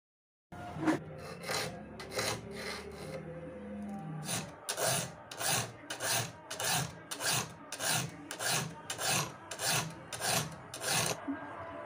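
A triangular file sharpens the teeth of a handsaw in a run of about a dozen even back-and-forth rasping strokes. The strokes are quiet and close, with no talk.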